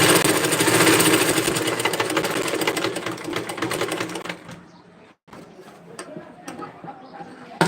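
A sewing machine stitches invisible piping onto a blouse with a fast, steady mechanical rattle, loud and close at first, then fading to softer, sparser ticking after a brief stop, with a quiet voice underneath.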